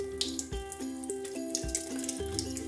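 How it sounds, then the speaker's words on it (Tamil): Tap water running into a sink while face wash is rinsed off, a steady splashing stream with gurgling pulses and a faint hum beneath, close and continuous. "கொஞ்சமாக தண்ணி விட்டுக்கலாம்."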